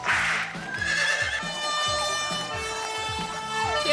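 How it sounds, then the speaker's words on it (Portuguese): A horse gives a loud, high whinny that falls in pitch, with a steady thumping beat underneath and no voices. "Cavalo!"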